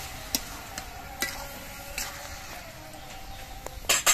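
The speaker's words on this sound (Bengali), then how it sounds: "চিনিটা দিয়ে নেড়ে চেড়ে মিশিয়ে নেব" Bottle gourd and sugar stirred in a pan, a faint low sizzle under sparse spoon scrapes and taps at irregular intervals, ending in a short cluster of louder scraping, close and quiet with no voices.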